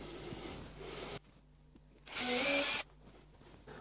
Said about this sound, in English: I just gently use the drill to mark the paint on the brick wall where the hole needs to be